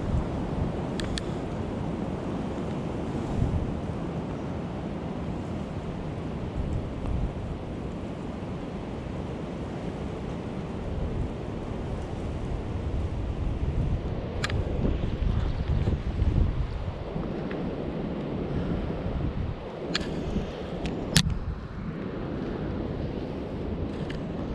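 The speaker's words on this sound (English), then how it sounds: "The river's moving pretty good." River water flows steadily past on the Au Sable River near Oscoda during early-season steelhead fishing. The broad, continuous rushing is buffeted by wind noise, with a few faint clicks and knocks over about twenty-five seconds.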